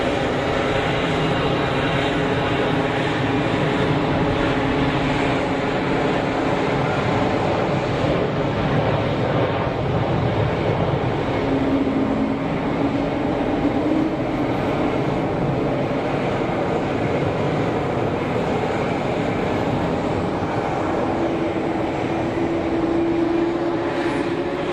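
An easyJet airliner on its takeoff roll at Geneva Airport gives a steady, broad jet roar, loud and continuous from a distance.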